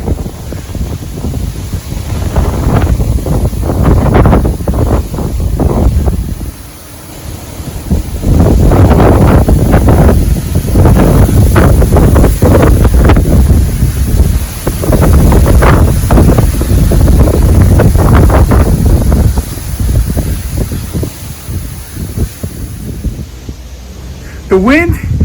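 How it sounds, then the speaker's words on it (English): Strong gusty wind buffets the microphone outdoors on a windy morning, loud rumbling bursts rising and falling over about twenty-five seconds, with a brief dip partway and a voice speaking in between. "The wind, it's hitting really hard right now."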